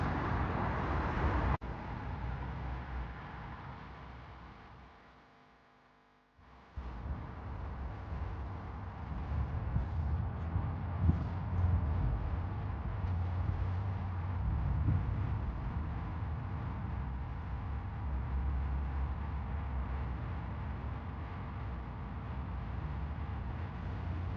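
A Mercedes-Benz C124 on air suspension drives through a city, its steady engine and road rumble continuing with a short dip in level, then holding an even, moderately loud drone throughout, with no voices.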